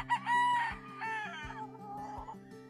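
A gamecock at a Philippine gamefarm crows loudly and close, with a long drawn-out call, while a steady low mechanical hum runs underneath.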